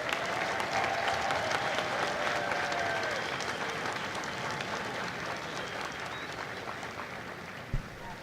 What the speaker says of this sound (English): Ladies and gentlemen, please join me in a round of applause for the company staff of Company C.